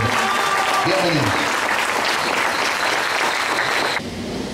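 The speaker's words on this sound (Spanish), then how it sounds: "Fuerte el aplauso para él." An audience at an orchid expo applauds steadily in sustained clapping that continues for several seconds, with a voice briefly heard at the start and the applause fading near the end.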